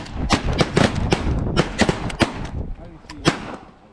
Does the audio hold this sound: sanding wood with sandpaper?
no